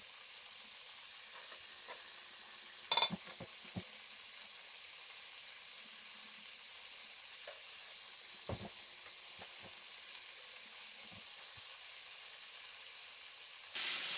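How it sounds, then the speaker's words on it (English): Saugeye fish nuggets, freshly caught at Taylorsville Lake, fry in a pan with a steady, close, even sizzle, broken now and then by a few faint pops and clicks. No one speaks. "let this stuff fry"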